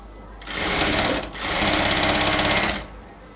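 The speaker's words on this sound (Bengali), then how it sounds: "ইলাস্টিকটাকে বের করে নিয়ে আমরা হচ্ছে এই পাশে সেলাই করব।" A sewing machine stitches elastic onto a cotton salwar waistband, running in two steady close bursts with a short pause between.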